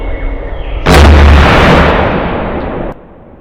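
A single sharp rifle shot from a Tikka T3x firing a 150-grain hand-loaded cartridge at an outdoor range, close and very loud, followed by a short rolling echo that cuts off.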